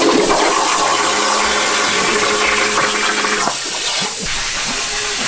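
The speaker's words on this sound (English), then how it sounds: "So while the plasma table is cutting, I thought I'd show you this." A plasma table cutting metal gives a loud, steady hiss and roar close by, with a shift in tone partway through as the cut continues.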